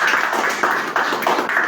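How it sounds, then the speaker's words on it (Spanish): An audience at a Mapuche and Yumbel history conference applauds its speakers, giving dense, steady clapping from many hands throughout, with no talk over it. "Un gran aplauso para los profesores Pedro Andrade Martínez y José Zavala Cepeda"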